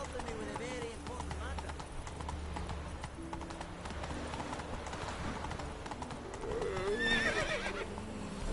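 Roach, a horse in The Witcher 3 video game, clip-clops steadily at a trot with a neigh near the end, over a bed of ambient game sound.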